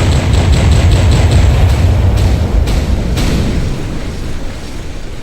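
Booming pirate-ship cannon fire rolls out in a Garry's Mod game, a loud, dense volley of rapid blasts with sharp reports that slowly fades into a lingering rumble.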